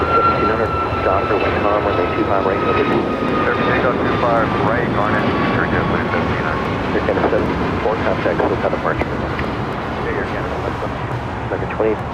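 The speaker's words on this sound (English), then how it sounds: "That's a Philippine Airlines flight 112 had coming in from Manila." Philippine Airlines airliner arriving at LAX from Manila, a steady jet engine roar with wind rumble, while voices talk over it the whole time.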